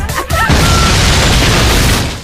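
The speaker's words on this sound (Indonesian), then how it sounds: "sebuah bom meledak tepat di depannya" A bomb blasts right in front of someone, a loud booming explosion that bursts in after a brief lead-in and then roars as a sustained rumbling wash for about two seconds before fading.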